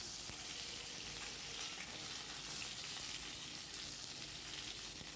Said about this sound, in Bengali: তারপর বেগুনটা দেবো ওর মধ্যে। দেখতে পাচ্ছ বেগুনটা দিয়ে দিলাম আমি।